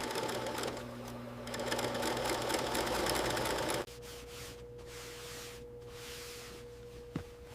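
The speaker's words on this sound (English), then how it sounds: "Stitch by stitch, the jacket begins to take its true shape." A sewing machine in a leather factory stitches a donkey leather jacket with a fast, steady mechanical whir for about four seconds. It then stops, leaving quieter room noise and a brief click.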